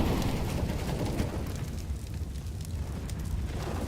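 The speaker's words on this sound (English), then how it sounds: "The Molotov, see if it's going to force him back or not." A Molotov fire burns in Counter-Strike during a professional match, giving a steady, dense crackling hiss with a low rumble that holds evenly throughout, with no talk over it.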